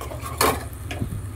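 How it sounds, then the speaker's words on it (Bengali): A utensil stirs spice paste frying in a pan, giving one sharp scrape and clatter followed by softer, shuffling stirring sounds against a low background hum. "এবার মশলাটাকে সমানে কষাতে হবে।"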